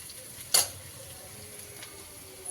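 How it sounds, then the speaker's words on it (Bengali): Onion, ginger, cumin and bay leaf fry in oil as the base for a fish curry, making a faint, even sizzle broken once by a sharp metallic clink of a utensil against the pan. "একটুখানি জিরে তেজপাতা দিয়ে একটা ছোট্ট পেঁয়াজ কুচিয়ে দিয়েছি তার মধ্যে একটুখানি আদা দিয়ে দিয়েছি"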